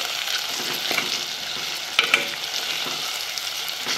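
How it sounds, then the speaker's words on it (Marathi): Garam masala and other spices fry in hot oil as they are mixed in a pan, giving a steady close sizzle with a couple of light scraping clinks partway through, and no voices. "आणि सर्व मसाले आपण आता मिक्स करून घेऊ. तेलावर छान फ्राय होऊ देऊ त्या सर्व साहित्यामध्ये"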